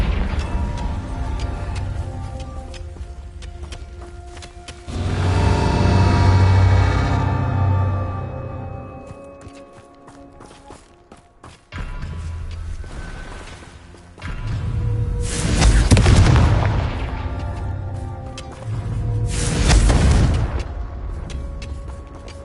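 Confringo explosive spells detonate in Hogwarts Legacy, several loud booming bursts spaced several seconds apart, each swelling and fading, with quieter ticking and rumbling in between.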